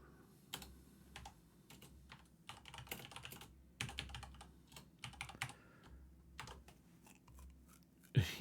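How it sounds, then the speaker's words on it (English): Rapid typing on a computer keyboard, a steady run of close, crisp key clicks with brief pauses and a louder clack near the end, alone with no talk. "Your bits are on hold until this typing is completed."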